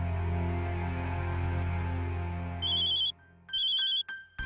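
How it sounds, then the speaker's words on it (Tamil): A telephone rings during a call, its electronic tone arriving in clear, repeated bursts in the second half over a steady hum and background music. "ஜீவிதா மாலத்திக்கு ஒரு தடவை ஃபோன் பண்ணி அவங்க எங்க இருக்காங்க என்ன நடக்குதுன்னு கேள"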